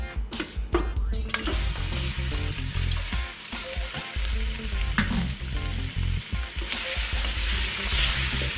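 Curry spices hit hot oil in a Ninja Foodi cooker, making a loud, continuous sizzle with crackling bursts and occasional stirring clinks for a goat curry.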